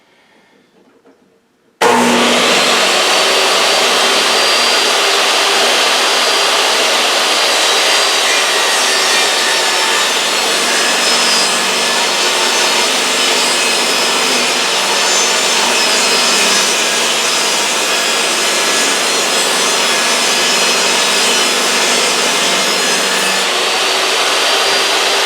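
A power tool, likely an electric hand plane, shaves wood from the edges of three boards to straighten them for edge gluing. It runs as a loud, steady whine for over twenty seconds after a short quiet start, with no talk.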